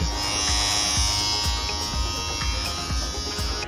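A Philips All-in-One Shaver 7000 series buzzes steadily and close up, a continuous motorized hum with faint rhythmic pulsing throughout.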